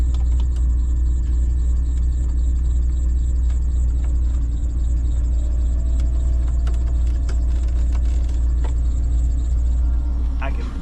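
The heater of a 1989 Chevy G20 van runs with a steady low rumbling hum throughout, faint clicks and knocks scattered over it and no talking.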